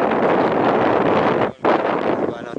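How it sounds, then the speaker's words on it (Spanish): Strong wind gusting across an outdoor tennis court, a loud steady roar of buffeting against the microphone with a brief lull midway before it picks up again. "el viento no, no joda demasiado"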